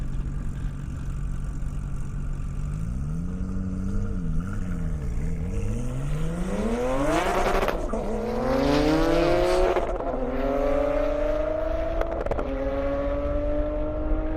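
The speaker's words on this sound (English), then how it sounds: "Fast cars are coming back out, so get ready." A roughly 1,100-horsepower Porsche Turbo race car makes a solo pass on a drag strip: a loud, steady engine drone wavers low, then climbs sharply in pitch through several gear changes, rising and surging as the car accelerates, with no talking.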